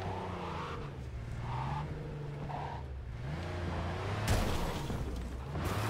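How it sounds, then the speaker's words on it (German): Car engine hum and tyre skidding from the video game Cyberpunk 2077, a steady low drone with a sharper burst near the end, running continuously without speech. "Da ist ein Auto."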